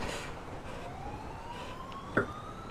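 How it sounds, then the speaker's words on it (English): A distant video game police siren wails faintly in a slow rising sweep behind a steady background hum, with a short knock near the end. "I hear sirens, bro."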